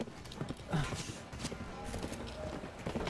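Rhythmic clip-clop of horse hooves at a steady gallop in a video game, mixed with game noise and voices talking over it.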